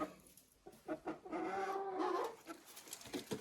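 Young laying hens and chicks peck rapidly at crushed feed shell, giving sharp, irregular taps mixed with soft clucking and chirps close by.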